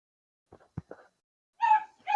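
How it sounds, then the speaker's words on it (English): A dog gives a few short, muffled yips and soft barks, then breaks into two higher, drawn-out whining cries, heard up close in an otherwise quiet room. "Dealing with a problematic dog,"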